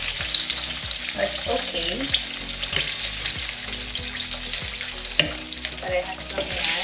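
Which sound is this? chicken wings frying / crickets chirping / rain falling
chicken wings frying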